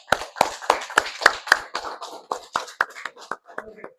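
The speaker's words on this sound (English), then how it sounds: "give yourselves a round of applause" A small group of elementary students claps for a few seconds, sharp uneven claps that thin out toward the end.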